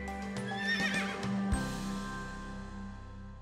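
A horse gives a rising, wavering whinny close by, followed by a low thud and a lingering tonal ring as the sound settles, with no speech.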